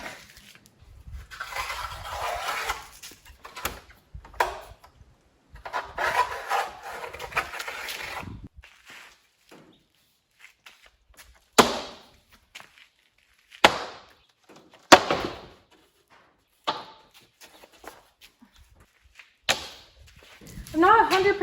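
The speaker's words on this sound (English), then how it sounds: "So I guess I'll go use that pocket knife now." A pocket knife slices through damp drywall during a cleanout of a 1997 VW Eurovan: a scratchy, gritty stretch of scraping followed by several sharp separate cuts and snaps, close by, with quiet gaps between them.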